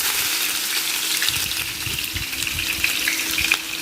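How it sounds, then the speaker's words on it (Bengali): Sliced onions hiss in hot oil for Chittagong-style mutton kala bhuna, a steady broad sizzle with small crackles and soft stirring scrapes, close and continuous with no talking. "তেলটা গরম হয়ে এসেছে, এখন আমি পেঁয়াজগুলো এখানে ঢেলে দেব।"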